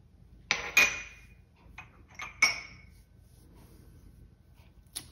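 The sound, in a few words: mixing almond flour with baking powder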